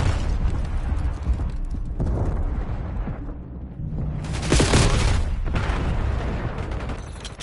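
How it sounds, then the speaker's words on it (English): A frag grenade detonates in a combat video game, its loud broadband blast swelling midway through amid ongoing rumbling battle noise and mechanical clatter, with no talking. "Incoming frag."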